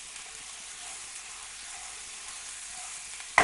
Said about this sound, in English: Going to scrape the pan we need to get every scrap of this wonderful